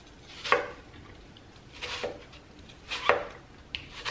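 A knife cuts thin apple slices on a board, four distinct crisp chops spaced about a second apart, quiet and close with no talking.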